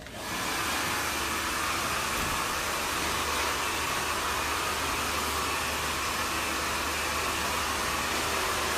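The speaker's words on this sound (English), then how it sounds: "get the hair dryer on it, get rid of all those little hairs" Hair dryer blowing loose cut hair off a freshly trimmed short haircut, a steady close airy roar that switches on and holds without a break.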